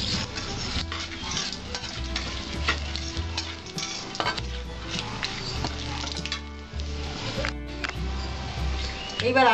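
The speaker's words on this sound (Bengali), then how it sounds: "আমি এতে কালো জিরা দিচ্ছি" Black cumin seeds frying in hot oil for a Bengali-style boal fish curry, a steady crackling sizzle with scraping stir strokes and occasional clinks of utensil on pan throughout.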